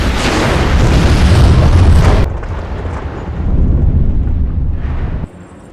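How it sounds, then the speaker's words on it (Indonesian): A dynamite blast in a film scene, detonating in a character's hands and bringing down the middle of a bridge: a loud, heavy boom, then a second rumbling surge before the sound cuts off. "tiba-tiba dinamit di tangannya pun meledak"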